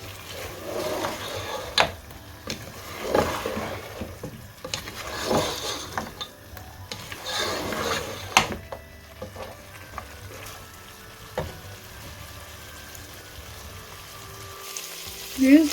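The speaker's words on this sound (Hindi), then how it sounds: "अब हम इसकी अच्छे से भुनाई करेंगे" Mutton sizzles and is stirred over a high flame for Peshawari namkeen gosht, with a steady frying hiss, scattered scraping and clinking of a spoon against the pot, and a brief louder clatter near the end.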